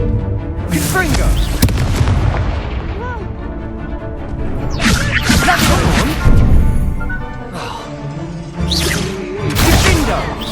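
Repeated Confringo spell blasts in Hogwarts Legacy: loud booming explosions and crashes land in clusters through the clip over a dense game soundscape, while a voice shouts over the blasts.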